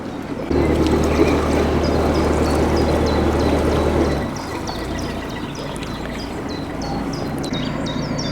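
Water pours steadily into a narrowboat's tank at a canal-side water point, a close, even rushing flow that stops abruptly partway through, leaving a quieter low hum with faint birdsong.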